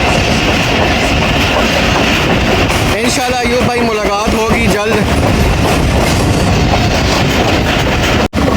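Rahman Baba Express passenger train running on rails between Attock City and Rawalpindi in hot weather, with loud steady rumble and rhythmic clickety-clack of wheels over joints throughout, while someone talks over it.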